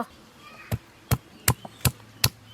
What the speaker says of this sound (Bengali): আদা রসুন কাঁচা লঙ্কা একসঙ্গে বেটে নেব।